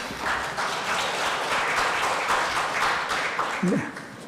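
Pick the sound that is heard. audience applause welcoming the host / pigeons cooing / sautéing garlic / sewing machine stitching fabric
audience applause welcoming the host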